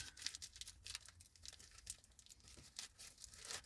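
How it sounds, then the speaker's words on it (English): Sheets of paper are loosely crumpled by hand to make DIY firestarters, giving a steady, close crinkling and tearing rustle with quick irregular crackles throughout. "Loosely crumple them up."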